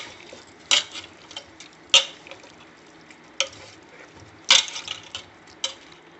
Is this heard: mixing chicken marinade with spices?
yes